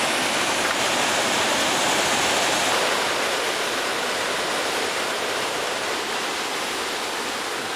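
A waterfall in South Africa's Blyde River Canyon roars steadily, a dense, even wash of rushing water with no pauses, loud and close throughout.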